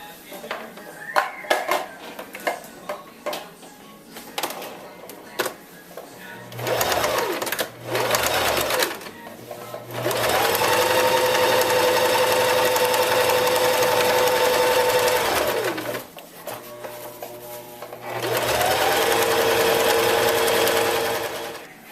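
A sewing machine stitches fabric pillow pieces together in bursts, with a whirring motor hum running several seconds at a time between short pauses and handling clatter.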